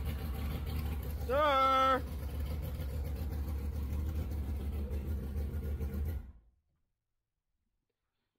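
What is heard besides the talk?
two-stroke engine of home built speed boat starting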